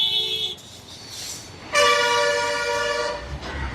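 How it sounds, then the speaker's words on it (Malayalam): A vehicle horn on a road near Kottayam, one short toot and then a long, loud, steady blast sounding close by. "എന്നെ കണ്ടിട്ടാണോ ഇത്ര ഹോൺ അടിക്കുന്നത്?"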